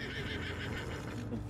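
A horse in the video game Red Dead Redemption 2 gives a single drawn-out whinny, with faint hoof clip-clops beneath, heard close and fairly quiet, with no talk over it.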